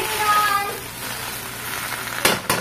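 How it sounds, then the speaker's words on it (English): Sauteed pea leaves with a dash of sesame oil sizzle steadily in a pan while being stirred, with two sharp scraping clatters near the end; a voice hums faintly at the start. "and then I'm going to just put a little bit of sesame oil Not much, just a little dash. And then kind of mix that up one last time."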